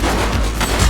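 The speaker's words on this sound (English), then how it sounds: "Shots fired!" A quick burst of gunshots rings out in The Precinct police video game, loud and close over less than a second of busy action sound.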